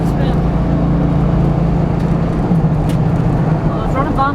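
A 1996 Buick Roadmaster wagon's engine runs loudly and steadily, a dense low rumble with a faint tonal hum that holds throughout.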